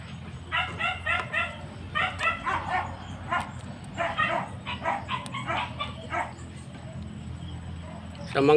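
A dog barks in repeated short bursts, several yapping barks in quick clusters with whimpering between them, close and clear, followed by a quieter stretch and a sudden loud sound at the end.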